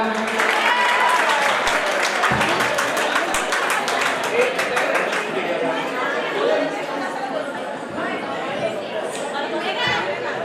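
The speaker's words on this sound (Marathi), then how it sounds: "जोरदार टाळ्या होऊन जाऊ दे एकदा" Audience at a college annual function and prize distribution claps and cheers, a dense wash of applause mixed with crowd chatter that slowly thins out toward the end.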